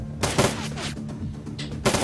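Auto-turrets in the video game Shadowrun: Dragonfall fire several sharp gunshot bursts in quick succession, loud and close, separated by short gaps.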